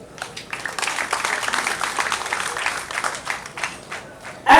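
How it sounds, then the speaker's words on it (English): A community crowd claps in sustained applause at a refugee gathering in Isingiro, dense and steady throughout with a sharp louder burst of clapping right at the end. "I want to request the community that you also join our hands and give them a big clap"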